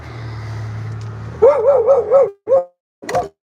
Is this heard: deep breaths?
no